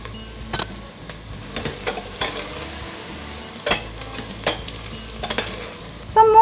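Onions fried golden brown in a pan with turmeric and degi mirchi for Rajasthani laal maas, stirred with scraping strokes over a steady close sizzle, the stirring rhythmic and unhurried with occasional clinks.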